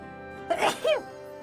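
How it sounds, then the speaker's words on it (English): A person sneezes, a short two-part burst with a sharp intake followed by a louder explosive release, close and alone against faint background music. "I must sneeze here."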